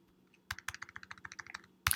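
A burst of about a dozen quick computer keyboard keystrokes entering a git push command, crisp and close with a steady clicking rhythm, ending in a louder final key tap, with no talk.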